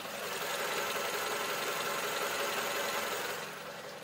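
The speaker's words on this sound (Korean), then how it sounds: "연식 대비 굉장히 짱짱한 엔진 소음 만나보실 수가 있고요." A ninth-generation Toyota Camry 2.5 XLE engine idles steadily up close, a continuous even hum and rattle that eases slightly at the end.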